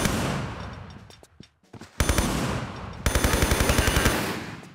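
Rapid automatic MP5 gunfire in the video game Tomb Raider III, set in Area 51, comes in loud bursts: a short volley, a brief pause, then two sustained strings of evenly spaced shots close up.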